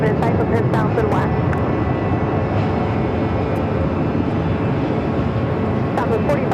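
A passenger plane takes off from runway 7 left at Phoenix Sky Harbor airport with a steady, loud engine roar that fills the whole stretch, and voices come and go over it.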